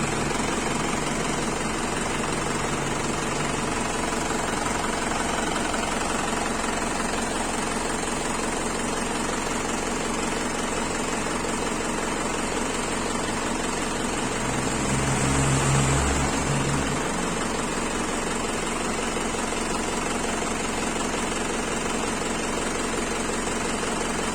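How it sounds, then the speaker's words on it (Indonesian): A car engine keeps idling after the key is removed, fitted with a turbo timer, a constant low rumble with a brief louder surge partway through, no talking. "Kontak sudah terjabut tapi mesin masih tetap menyala."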